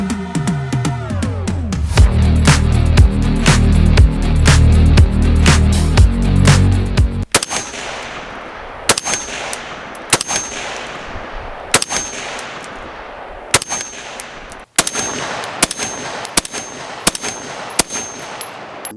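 Springfield Hellion 5.56 bullpup rifle firing a series of sharp, loud shots at an irregular, steady pace, each crack followed by a short ringing decay, after an opening stretch of heavy low rumbling.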